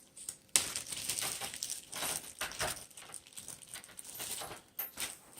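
Loose metal screws clatter and jangle as a hand grabs them from a container for a DIY camera platform, a dense run of small close clinks and scrapes with no talking.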